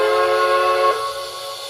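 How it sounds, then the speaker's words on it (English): A Shay steam locomotive whistle from a TCS WOW sound decoder gives one sustained, loud chord-like blast that cuts off sharply near the end, leaving a lingering tail. "So of course the whistle,"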